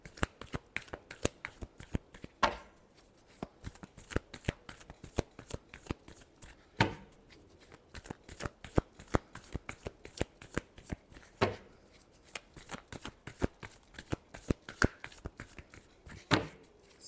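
A deck of tarot cards is shuffled by hand: quick, crisp papery slaps and flicks in a repeating rhythm, close and clear, with no talking.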